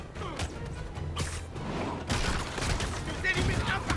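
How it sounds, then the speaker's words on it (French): Bursts of gunfire and thuds crackle through a busy, noisy action scene in a Spider-Man video game, with whooshes and impacts piling up. "on nous signale des coups de feu"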